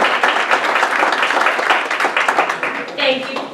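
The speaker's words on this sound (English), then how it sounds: "So give her a round of applause." Audience applause at a community business event, a dense burst of clapping lasting a few seconds that tapers off near the end, fairly close and loud.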